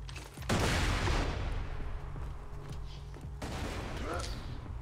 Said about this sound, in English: Oh my god, we're shooting.